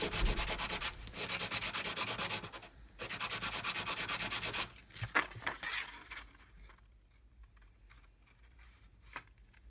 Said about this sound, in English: So I'm just going over with 400 grade sandpaper.